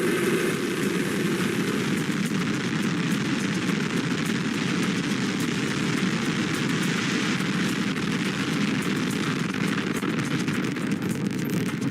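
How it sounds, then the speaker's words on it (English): A SpaceX rocket lifting off, its deep continuous roar steady and loud throughout, with broadband rumble filling the whole stretch and no voices over it. "We have liftoff."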